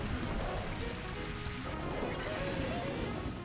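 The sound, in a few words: Rain Dance move rain sound from Pokémon Colosseum video game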